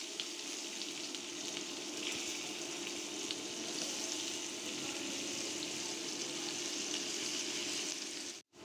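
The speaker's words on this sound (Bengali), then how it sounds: "এখন ওই তেলের মধ্যে পেঁয়াজ ভেজে নেব" Onions fry in hot oil for egg bhuna with a steady, dense sizzle that runs without a break, close and fairly loud, and cuts out abruptly at the end.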